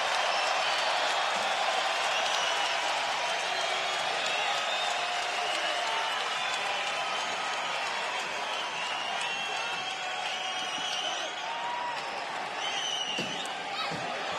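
A UFC arena crowd in Ottawa roars steadily through the closing seconds of a fight, a dense, continuous wash of cheering and shouting with no clear breaks.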